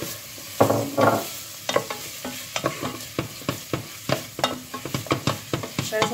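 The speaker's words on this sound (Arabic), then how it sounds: "انزل عندي بالبصل كده، اديله تشويحه على طول" Chopped onions fry in hot oil in a pan while being stirred, giving a steady soft sizzle broken by repeated scraping and clacking strokes of a spoon, close and alone without talk.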